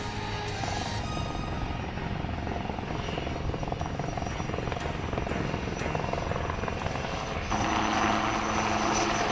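A light combat helicopter flies past during an air show display at Aero India 2019, with a loud, continuous rotor and engine roar that swells brighter near the end as it moves.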